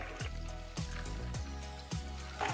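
Water from grated radish wrung out through a cotton cloth, heard as soft wet trickles and squelchy pulses that surge every second or so, close and quiet.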